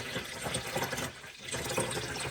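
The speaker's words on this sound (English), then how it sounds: "we're going to add water to our bowl" Water pours from a container into a toilet bowl in a steady, splashing stream, briefly easing off in the middle before resuming, near and moderately quiet with no talking.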